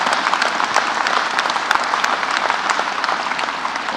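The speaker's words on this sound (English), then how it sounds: "round of applause, for sure" Steady, dense applause from a crowd at an indoor unveiling event for Indy race cars, a continuous wash of many hands clapping at even loudness throughout.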